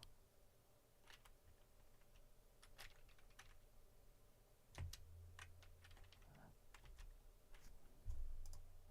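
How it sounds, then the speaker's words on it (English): Soft, sparse clicks of typing on a computer keyboard, irregular taps spread across several seconds, quiet and close against a faint low hum, with a couple of louder knocks near the end. "I need to learn how to type on this keyboard"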